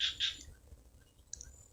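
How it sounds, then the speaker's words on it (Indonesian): A white-breasted waterhen gives a couple of short, harsh squawking calls, faint and somewhat distant, in a quiet outdoor setting in late afternoon. "Suaranya sih banyak burung ruak-ruaknya, tapi dia nggak mau datang"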